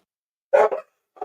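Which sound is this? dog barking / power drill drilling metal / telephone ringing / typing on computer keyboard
dog barking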